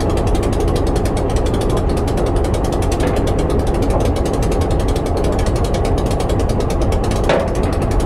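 A hand ratchet tightens a fitting on a train: rapid, even clicking runs continuously, close and loud, with an occasional creak and no voices.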